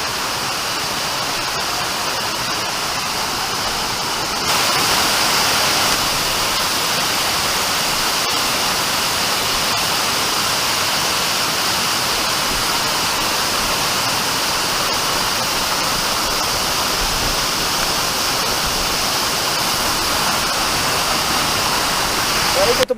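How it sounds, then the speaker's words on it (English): A waterfall at Bucay, Ecuador, pours over rocks in a steady, loud, broadband roar that fills the whole stretch without letup. "just the way how the waterfall cascades off the rocks"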